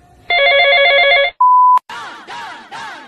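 A phone rings loudly up close: a bright trilling ring, a sharp electronic tone, then warbling ringtone bursts, with no voices.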